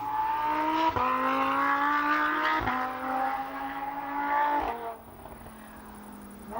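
Loud, close revving from a 2023 Lamborghini Huracán Técnica engine rising through repeated upshifts, each marked by a brief cut before the pitch climbs again, then easing to a lower drone.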